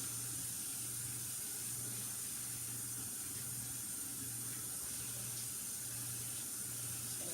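Steady broadband hiss of water running into a sink, constant throughout with a low hum underneath and no talking.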